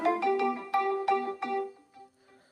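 A phone's incoming-call ringtone plays a bright, repeating melodic chime, close and clear, fading out at the end with no speech over it.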